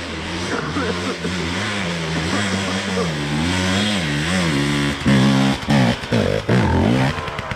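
A KTM 350 EXC-F dirt bike engine runs close by, holding a steady droning idle with wavering pitch before a series of sharp, loud throttle blips near the end.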